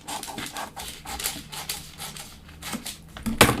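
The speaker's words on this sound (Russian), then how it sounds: "Здесь вырезаю. Разрезаю." Scissors snip through a paper blouse pattern in a rapid series of crisp, close clicks and crunches, with a louder cut near the end.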